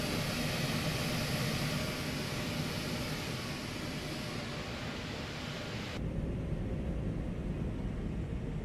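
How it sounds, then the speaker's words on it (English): Airbus A220 jet engines spooling up in Microsoft Flight Simulator 2024, a steady, loud broadband roar that holds for several seconds and then drops in brightness, with no talking. "let's push these, listen to these engines here"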